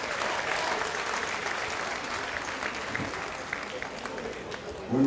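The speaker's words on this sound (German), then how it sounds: "Ihm gilt Ihr Applaus." An audience applauds after a wrestling bout at a Baden-Württemberg/KSV versus Niederschlesien team match in Schriesheim, with steady, dense clapping throughout and voices mixed in.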